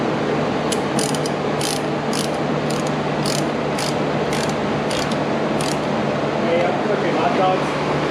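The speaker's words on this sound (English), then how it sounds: "I need a 10mm matching ratchet." 10mm ratchet clicking in repeated short bursts while turning on a 2005 Dodge Ram 1500 SLT 5.7 HEMI engine during water pump work, over a steady mechanical hum with faint background voices.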